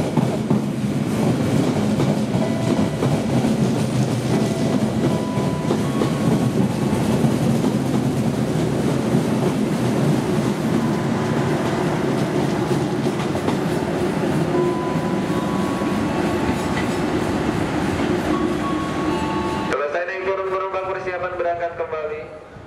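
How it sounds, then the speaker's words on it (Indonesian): A passenger train rolls into Manggarai station with a continuous loud rumble and clatter of wheels on rails for most of the span, fading near the end as a station announcement voice comes through. "Lanjut, jalur 7 datang kereta api Majapahit 215"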